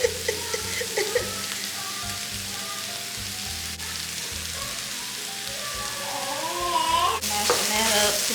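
Pan sausage sizzles steadily in a skillet on a griddle set to 300 while being mashed and stirred, with a continuous frying hiss and scattered scraping clicks from the utensil, close and moderately loud, no talking.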